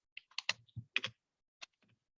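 Typing on a computer keyboard while writing a Python program, a handful of close, crisp key clicks in quick uneven bursts with short pauses, alone and fairly quiet.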